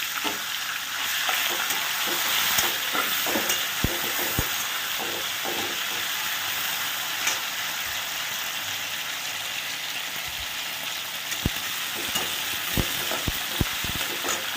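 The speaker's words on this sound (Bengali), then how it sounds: "এই যে চিংড়ি মাছটাকে আমি নুন হলুদ মাখিয়ে রেখে দিয়েছি, এটাকে সুন্দর করে ভেজে নেব" Shrimp coated in salt and turmeric fry loudly in a pan, a dense continuous sizzle and hiss with scattered pops and stirring clatter, no talking.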